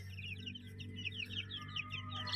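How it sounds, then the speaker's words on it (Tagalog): Chicks kept on the ground peep in a quick, high chattering run over a steady low hum, faint and close, without voices. "ito yung ating mga sisiw na last batch na oh, mababae"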